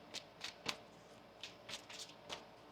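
Tarot cards being shuffled up close: a handful of quick, soft riffling bursts with brief gaps, quiet overall.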